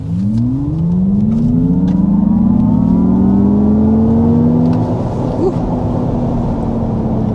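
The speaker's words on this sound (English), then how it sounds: "it's the Type S after all, so we do need to go ahead and get a hard acceleration" A 2024 Acura ZDX Type S, a 500 HP electric SUV, accelerates hard from inside the cabin, its motor whine rising steadily in pitch over several seconds and then fading into road rumble.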